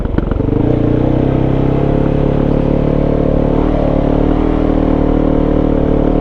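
A Kove 450 dirt bike with a Dominator exhaust and off-road airbox revving hard and steady, loud and close, its raspy exhaust droning throughout with a brief throttle change midway.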